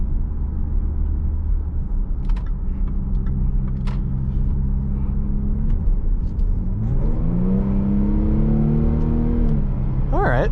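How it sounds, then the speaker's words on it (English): A 2017 Jaguar F-Pace 35T Prestige AWD engine hums steadily, then revs up as the SUV accelerates, its tone climbing smoothly and loud from inside the cabin, with no talking. "Like that engine sound."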